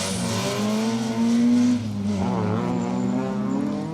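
A Ford Escort RS rally car on a stage drives past with a loud engine note that rises briefly, then drops and picks up again with wavering revs.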